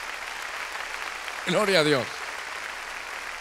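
A church congregation applauds in a steady background wash of clapping, and a voice calls out briefly over it midway.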